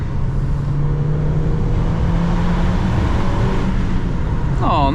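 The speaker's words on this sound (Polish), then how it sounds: "normalny dźwięk czterocylindrowego silnika" The four-cylinder 1.5-litre engine of a 2024 MG ZS runs and climbs steadily in pitch as it accelerates on a highway, loud and close, with a rising whine near the end.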